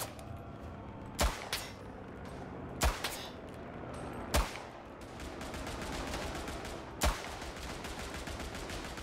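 Sharp, separate gunshots from the World War I shooter Tannenberg, four loud reports spaced a second or two apart over a steady battlefield rumble of distant gunfire.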